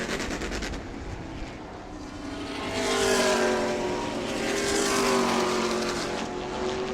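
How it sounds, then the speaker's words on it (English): Race cars in a heat race at New Smyrna roar past the start-finish line, engines swelling and fading in two or three loud passing sweeps over a steady background of track noise. "Jeffrey White, Jarrett Corpy right here at the start-finish line with 5 complete, 3 to go."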